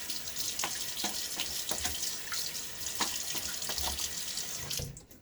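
Water from a tap runs steadily into a sink for a shaving-lather rinse, a continuous splashing stream with small plops and drips, ending abruptly as the flow stops.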